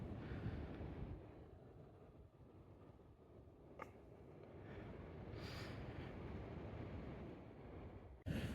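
Steady wind rushing and buffeting against the microphone, a low constant roar with a few brief gusty bursts.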